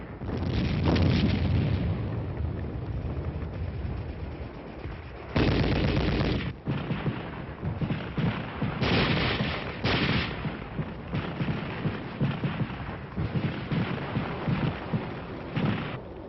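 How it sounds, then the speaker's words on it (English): Combat training gunfire and artillery: dense, continuous rattling shots with heavy booming bursts and shell blasts, loud and sustained throughout with no pauses. "Instead of just sitting and listening to the shells passing overhead"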